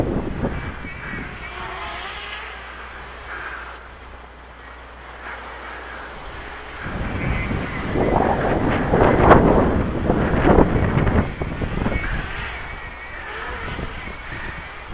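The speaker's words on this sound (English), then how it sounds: "And here are the gusts back." Strong gusty wind buffets the microphone outdoors, a rumbling roar that swells and surges midway then eases, with faint talk briefly underneath.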